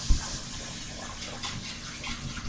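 Water runs steadily from a tap over a glass jar as it is washed with soap, a continuous close splashing rush with a soft knock at the start.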